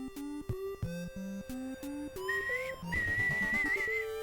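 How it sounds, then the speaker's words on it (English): A person whistles a string of short, wavering notes, some breathy and unsteady, then holds a longer pitched tone near the end, close and fairly quiet. "There's me trying to whistle again."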